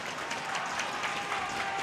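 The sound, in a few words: ice hockey crowd cheering during a fight at KCIC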